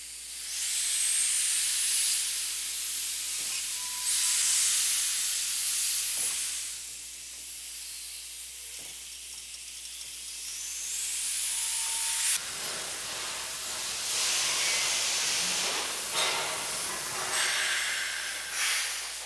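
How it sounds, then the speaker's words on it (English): Steam locomotive 480, a Durango and Silverton Mikado, easing into a roundhouse for servicing; loud sustained steam hiss with surges and pauses, air release bursts and faint mechanical clanks, no voices. "After disconnecting the air, the 480 is moved into the roundhouse for additional servicing."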